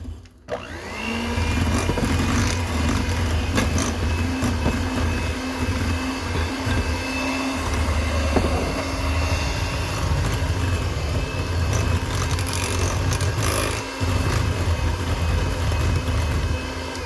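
An electric mixer beats an egg into orange cookie dough, its motor droning loudly and steadily throughout with a sharp start at the beginning.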